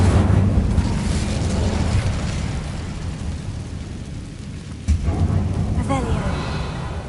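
A fire spell cast during Hogwarts Legacy gameplay erupts as a loud, continuous roaring blast with deep rumbling, then a sharp fresh burst flares up partway through.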